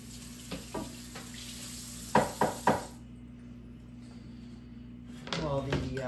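A vegetable medley cooks in a pan with a low steady sizzle, broken by several sharp clinks of utensils against the pan and a short burst of stirring near the end, while someone talks over it.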